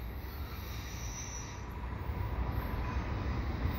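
CN freight train rolling across a single-track bridge, a steady rumble of wheels and rail cars close by that grows slightly louder, with faint high wheel squeal above the low roar.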